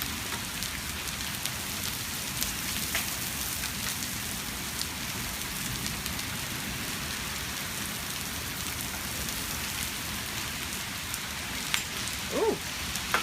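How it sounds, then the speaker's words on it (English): Hail falling outdoors, a steady dense patter of hard pellets on surfaces filling the whole stretch, with a few sharper close impacts near the end. "And it's starting to hail."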